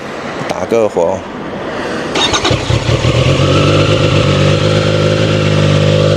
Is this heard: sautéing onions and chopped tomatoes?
no